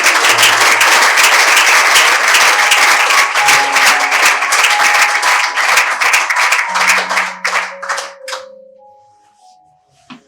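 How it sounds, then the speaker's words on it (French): A congregation at a collective fasting and prayer gathering claps loudly and steadily, then the applause thins and fades out near the end. "Nous acclamons."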